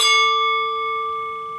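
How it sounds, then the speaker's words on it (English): A large bell-like instrument is struck once and rings out with a clear, sustained tone that slowly decays, heard alone and close. "this sounds so much like a bell"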